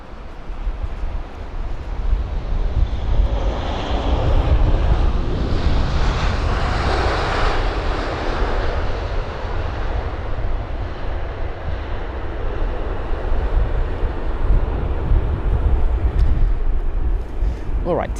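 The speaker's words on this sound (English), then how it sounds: "So this is the United 787-9 Dreamliner from Houston." A United Boeing 787-9 Dreamliner arriving from Houston at London Heathrow, a loud, sustained jet engine roar with wind rumble that swells in the middle and then holds steady, heard from outdoors.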